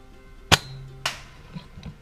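Well MB4411 rifle firing, two sharp, close cracks about half a second apart followed by a couple of faint knocks in an otherwise quiet outdoor setting.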